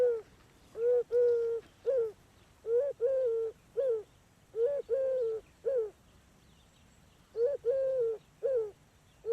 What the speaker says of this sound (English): thanks to that collared dove, that's a lovely version of the call there